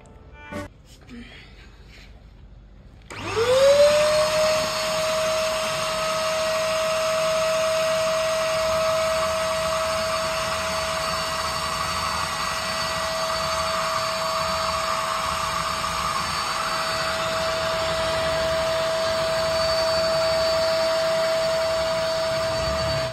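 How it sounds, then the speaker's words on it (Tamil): A Eureka Forbes vacuum cleaner switches on after a few quiet seconds and runs steadily and loudly with a sustained motor whine until the end, and no one speaks over it. "இப்போ இந்த குப்பையை எப்படி எடுக்குதுன்னு பார்ப்போம்."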